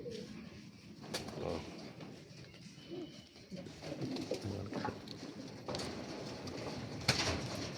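Racing pigeons coo softly in a loft, low murmuring calls scattered through quiet background with a few knocks and rustles, faint and close.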